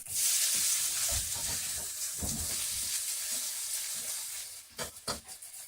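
Grated potato pancake batter sizzles steadily in a hot pan, a close, continuous frying hiss with a few soft scraping and tapping sounds near the end.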